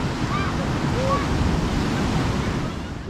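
Ocean surf rolls onto a beach in Nicaragua, a steady rush of breaking waves mixed with gusty wind on the microphone and a few faint high bird calls.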